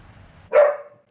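A single dog bark sounds in Hogwarts Legacy, a sharp, fairly loud woof rising out of quiet background ambience and fading quickly.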